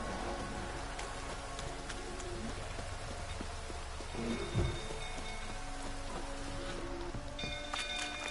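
Steady rain falling in The Witcher 3 game world, a continuous pattering wash that covers the whole stretch, with occasional game sound effects layered over it.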